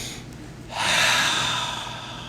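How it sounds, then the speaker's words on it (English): One long, deep breath drawn in during a guided meditation for stress and fear. It starts quietly, then rises into a steady, close airy rush that slowly fades. "go ahead and take a deep breath in"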